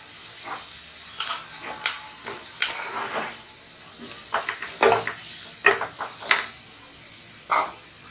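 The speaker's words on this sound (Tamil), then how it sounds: "இப்போ இஞ்சி பூண்டு பேஸ்ட் போட்டுக்கலாம்" Ginger garlic paste frying in a pan for a minced chicken and purple cabbage curry: a soft, steady sizzle broken by irregular clinks and scrapes of a utensil against the pan, close by, with no talking.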